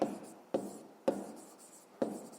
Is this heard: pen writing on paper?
yes